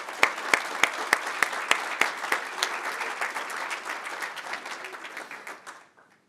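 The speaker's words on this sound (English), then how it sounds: "Round of applause, please." Applause at a college athletic hall of fame induction ceremony, beginning with a few sharp, evenly spaced claps up close that swell into a full crowd's clapping, then fading out.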